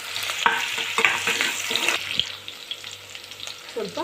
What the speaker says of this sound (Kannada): ಸ್ವಲ್ಪ ಬೆಳ್ಳುಳ್ಳಿ ಹಾಕೋತಾ ಇದ್ದೀನಿ. ಹಾಕೊಂಡು ಸ್ವಲ್ಪ ಫ್ರೈ ಮಾಡ್ಕೊಂಡು